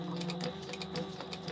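A sewing machine runs a short back stitch through a crossbody bag, a quick steady mechanical whir with light rhythmic needle clatter, fairly close and alone.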